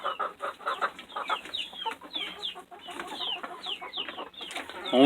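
Chickens cluck and chatter close by in a coop, with busy overlapping calls throughout and a louder, sharper squawk at the very end.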